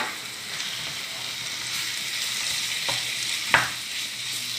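Minced meat and onions frying in a pan, a continuous gentle sizzle with a couple of brief spatula scrapes, close and without speech.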